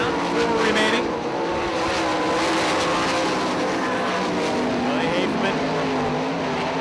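410 sprint cars racing in a heat race at 34 Raceway, the engines holding a loud, continuous high-pitched roar as the field circles the track, with a track announcer talking over the noise throughout.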